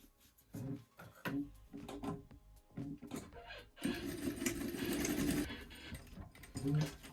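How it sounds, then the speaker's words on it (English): A home sewing machine stitches elastic for a scrunchie, running in a steady whirring burst of about a second and a half, flanked by faint handling noises and short stops. "I'm just going to take this to my sewing machine and I will stitch the sides of the elastic here"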